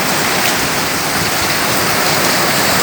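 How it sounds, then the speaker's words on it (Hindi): Heavy rain pours steadily from a roof into a flooded gallery, a dense, loud, continuous wash of splashing water with no pauses and no voices. "ऊपर छत से पानी आ रहा है और खूब बारिश हो रही है आज"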